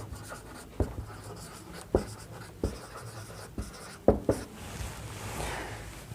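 Chalk or a marker taps and scratches across a board as math is written out for a class 10 ratio and proportion lesson, in short, irregular strokes with sharp knocks between them.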